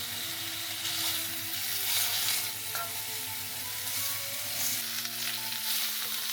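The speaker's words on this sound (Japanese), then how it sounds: "まず弱火でじっくりと豚バラ肉の脂を出します。" Pork belly fries slowly on low heat in an iron frying pan, a soft, even sizzle and crackle that runs steadily at moderate level with faint background hum.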